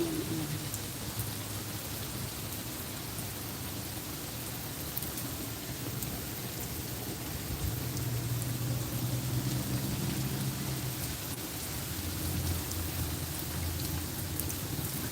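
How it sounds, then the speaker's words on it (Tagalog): Rain falls steadily during a storm with strong wind and hail. The dense, even hiss continues for the whole stretch at a moderate, distant level, with no voices. "Lagi na lang umuulan."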